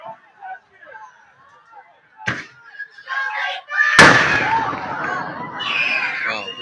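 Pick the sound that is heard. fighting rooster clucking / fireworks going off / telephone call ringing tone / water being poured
fireworks going off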